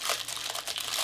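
Close, steady crinkling and crackling of a plastic ration-pack wrapper being handled and opened, a continuous rustle with brief sharper crunches, and no voices.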